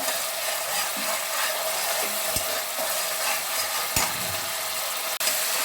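Constant hissing sizzle of masala frying in a pan for a Bengali fish curry, with a few soft knocks and scrapes along the way.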